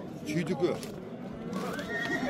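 A horse neighs at a busy horse market in Aksy, a loud shaky whinny rising over chatter from men nearby, with faint hoof clops in the background.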